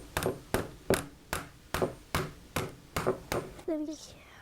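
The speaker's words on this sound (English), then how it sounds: "Now we're going to take the hammer and hammer it the rest of the way in." Hammer taps driving a part into a children's tablesaw, about nine sharp evenly spaced knocks close by, ending in a brief ringing squeak.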